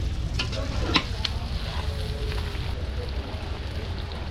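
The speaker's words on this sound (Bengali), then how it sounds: "আপনি কি এইভাবে কম কম করে তেল দেন আর কম কম করে ভাজেন" Beef frying in soybean oil at a street food stall, with a steady sizzle and a few sharp scrapes and stirs of a utensil early on, close and continuous.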